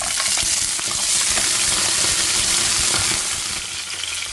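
Food fries loudly in a hot frying pan of sesame oil mixed with some vegetable oil, a dense, continuous sizzle and crackle with stirring, easing slightly near the end.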